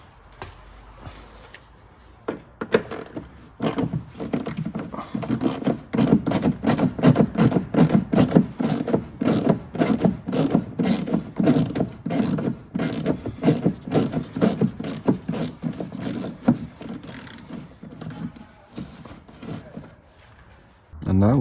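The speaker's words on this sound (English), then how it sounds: "we'll begin by removing these 2 screws" A ratcheting tool spins out screws from a Volvo XC60 rear wheel arch liner, a long rapid run of clicking ratchet pulses close by, with someone talking around it.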